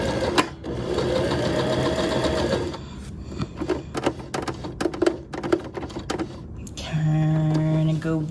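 A home sewing machine stitches a decorative X across a tote bag, running in steady motorized bursts with pauses and clicks between passes, close and loud, then a final sustained run.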